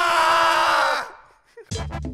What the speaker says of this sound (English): can we scream to end this case?